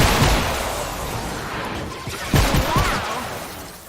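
Rapid video game gunfire in Fortnite crackles and booms through a dense, noisy din, with a few louder shots standing out, like a busy firefight.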